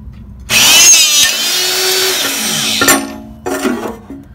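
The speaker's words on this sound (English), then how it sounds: "So we just pop a little pilot hole through there" A power drill with a hole punch bores a small pilot hole, a loud high-pitched whine running steadily for a couple of seconds, then brief spurts as it winds down.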